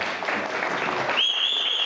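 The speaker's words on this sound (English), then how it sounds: "If we could have a round of applause for those four" Audience applause at a company tenth-birthday speech event, honoring four staff back from New York, a dense burst of clapping that cuts off abruptly, followed by a sustained high tone like microphone feedback.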